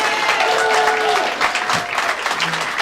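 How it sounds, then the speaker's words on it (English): An audience at an evening event applauds in dense, continuous clapping that stays loud for the whole clip. Faint voices and a brief tone sit underneath the clapping. "Stephen Kapos, round of applause."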